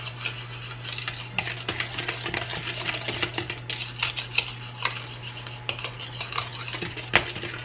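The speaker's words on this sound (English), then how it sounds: "Then we're gonna just stir this up. Get all the spices in there really good." Spices stirred into a wet batter mixture in a bowl, a continuous scraping and clinking of the utensil against the dish with a low steady hum underneath, no talking.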